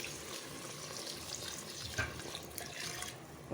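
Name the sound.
water poured into a pot of mutton biryani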